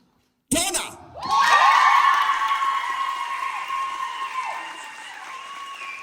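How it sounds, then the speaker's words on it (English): Studio audience at a televised Welsh talent show grand final breaks into loud applause and cheering after a finalist is announced, a sustained roar of clapping and whoops with voices mixed in. "A round of applause for the guys."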